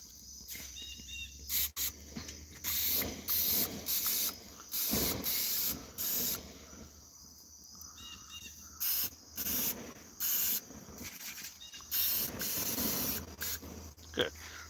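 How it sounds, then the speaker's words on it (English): Pam cooking spray hisses onto a charcoal grill in repeated short bursts, close and loud, with people talking nearby between the sprays. "Spray some Pam, actually. Let's get some Pam now."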